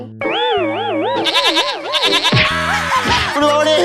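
A loud, wavering goat bleat, close and drawn out, followed by a noisier, harsher bleating stretch.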